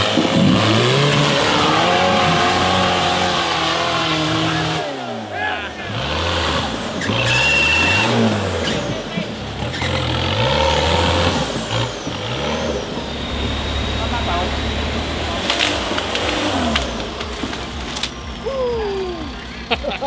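An off-road 4x4 with a broken steering arm maneuvers through the Malaysian jungle at a rainforest challenge, its engine revving loudly and repeatedly rising and falling in pitch, with voices heard beneath it.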